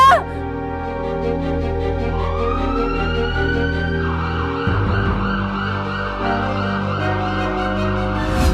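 An ambulance siren wails loudly and close by, its rising and falling tones repeating continuously with a steady vehicle rumble underneath.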